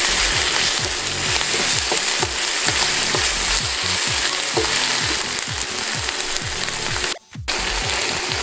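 Steady, dense sizzling of ginger garlic paste frying in a hot pan, with occasional stirring scrapes; loud and close, with a brief drop near the end.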